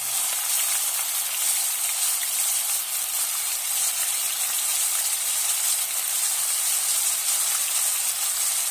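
Onion frying in hot oil for a spicy soybean curry gives a steady, even sizzle and hiss that holds at a constant level throughout, with no talking.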